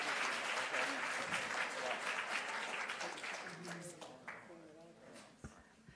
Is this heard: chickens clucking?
no